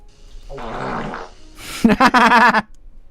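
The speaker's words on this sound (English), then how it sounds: "Someone just did a fart noise." A fart noise sound effect plays as a low, buzzy rasp lasting about a second, followed after a short gap by a louder, sputtering burst of roughly the same length; no one speaks over it.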